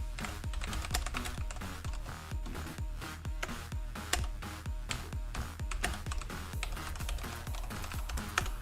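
Steady, fast typing on a computer keyboard, dense clicking keystrokes close to the microphone with no pauses, continuous and fairly loud throughout.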